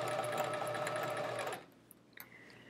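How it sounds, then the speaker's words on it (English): A sewing machine stitching quilt rows together for a chevron quilt runs in a fast, steady whir for about a second and a half, then stops, leaving a few faint clicks and handling noises. "we're sewing across the an entire row here"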